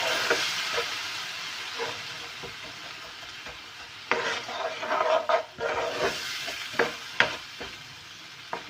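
Cream being stirred into caramel sauce in a pan for banoffee pie, a soft sizzle with irregular spoon scrapes and clinks that grow busier in the second half.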